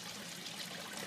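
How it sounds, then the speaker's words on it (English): Water draining through an aquaponics bell siphon, sucking in air as it swirls: a faint, steady gurgling trickle and hiss without talk. "You can see it really sucking some air in there with the twist around the water."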